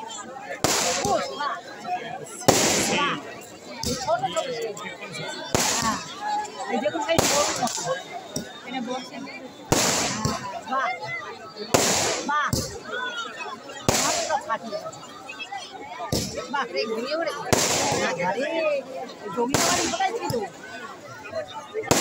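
Firecrackers pop repeatedly outdoors, sharp loud bangs recurring every second or two over a crowd's chatter and voices.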